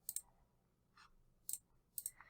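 A computer mouse clicks while conditional formatting is set up in a spreadsheet, giving five or six crisp, close clicks spread over two seconds, mostly in quick pairs, against a quiet background.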